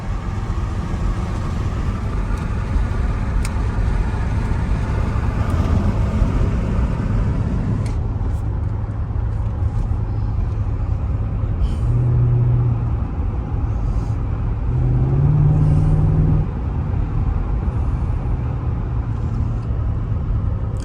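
A Mercedes SL55 AMG on newly fitted Neomax coilover suspension cruises along a road, giving a steady low engine drone and tire rumble throughout, with no talk.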